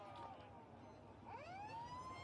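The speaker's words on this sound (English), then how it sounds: "As the siren sounds, a wailing siren, which we love hearing at a lot of country grounds." A wailing half-time siren at a country Australian rules football ground rises and sweeps upward in pitch, heard at a distance and faint, over low crowd ambience.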